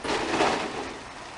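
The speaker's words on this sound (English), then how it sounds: "As you can see, the rain is picking up and you can hear it." Rain falls heavily outdoors in the early stages of Hurricane Harvey, a dense broadband hiss that swells briefly and then eases slightly, steady and close with no talking.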